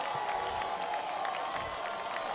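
A stadium crowd at a Division III college football playoff game roars steadily in NCAA Football 2025, a dense wash of cheering and applause held at even volume throughout, with no voices standing out.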